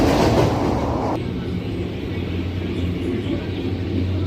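A passenger train runs on single track between Guntur and Macherla after leaving Krishna Canal Junction, with a steady rumble and rattle heard from on board that stays loud throughout.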